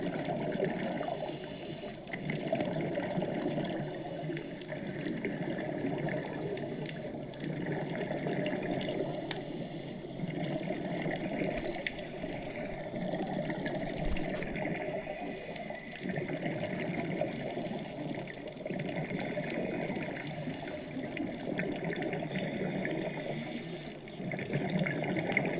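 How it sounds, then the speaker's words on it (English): Underwater ambience on a free sea dive over live coral off Kenya: a dense, steady watery rush and muffled bubbling hiss, continuous and even throughout, with no talking. "What a feeling to be underwater."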